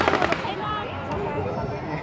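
Fireworks bursting close by in a dense cluster, with crackling pops strongest at the start and a continuous rumble and hiss of explosions throughout; people talk over it.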